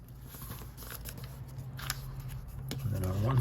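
A piece of paper is folded up by hand in soft, close crinkling and rustling, with sharper creases here and there and a voice murmuring near the end.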